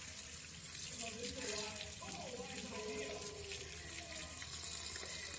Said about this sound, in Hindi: स्ट्रेन करने के बाद फ़ौरन आपने इसको ठंडे पानी से धोना है